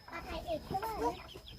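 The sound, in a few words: chickens clucking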